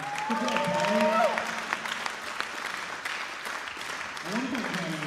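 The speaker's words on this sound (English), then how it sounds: "Give him a round of applause." Applause from a church congregation for Tyler after his message on relationships, moderate clapping with a warbling tone and a voice speaking over it part of the time.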